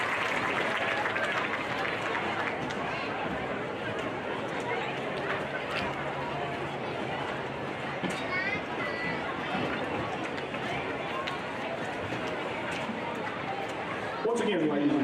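A crowd applauds for Van Buren High School Hall of Honor members at a marching band event, with steady dense clapping and chatter throughout.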